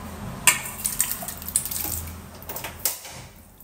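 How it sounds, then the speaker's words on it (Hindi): Boiled dal lentils tipped into a kadhai wok in a home kitchen, a short run of wet splashes and drips with a few sharp metallic taps, close and fairly loud. "और इसमें मैं ये दाल डालूंगी।"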